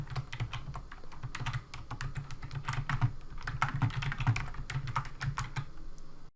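Keys clatter on a computer keyboard while text goes into a Microsoft Word table, a quiet, steady stream of close clicks with no talking.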